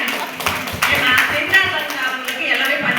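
An audience at a women's Tamil debate-style speech competition claps for the participants, a steady patter of hands running throughout beneath a speaking voice.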